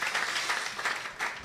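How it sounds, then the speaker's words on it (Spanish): A church congregation applauds at a Friday night worship and miracles service, a steady wash of clapping with no speech over it. "Den un aplauso, Señor, en esta noche."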